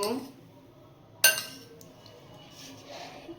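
A lid is lifted off a covered pan of chira (flattened rice) mixture, making a single sharp metallic clink close by, then fading into quiet room tone.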